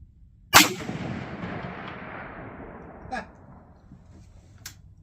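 A Marlin 336 lever-action rifle in .30-30 fires one loud, sharp shot with a long rolling echo at an outdoor range, aimed at a target 300 yards out. A fainter crack follows a few seconds later, then a faint distant tick.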